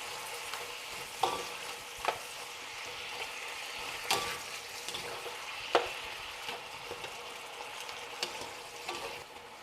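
Shrimp sizzling in a hot pan for chow mein, a steady frying hiss broken by several sharp stir and spatula clicks, fairly close and moderate in level.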